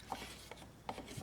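Paint being stirred in a cup, a faint close scraping and rasping of the stir stick against the cup wall in a few short strokes.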